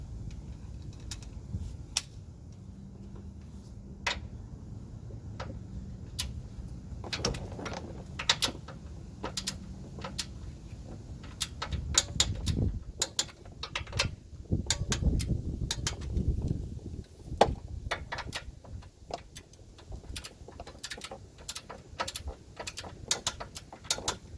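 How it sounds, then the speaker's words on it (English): A torque wrench ratchets in short bursts of sharp clicks while tightening sway bar bolts to 30 foot-pounds on a 2003-2009 Toyota 4Runner. The clicks come close and intermittent over a low workshop hum, with no talking. "Now we'll torque them down at 30 foot-pounds."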